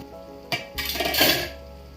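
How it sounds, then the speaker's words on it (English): A quick metallic scrape and clink of a spoon stirring chicken biryani in a cooking pot, one sharp knock followed by a second of close scraping against the pot. "Give it a stir so that the bottom doesn't stick"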